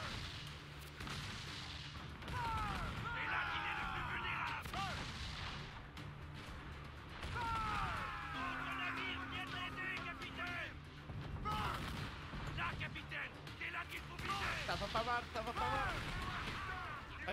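Deep booms of ship cannon fire in Assassin's Creed IV: Black Flag roll out over a busy, noisy naval battle din, with voices shouting in between and bursts repeating.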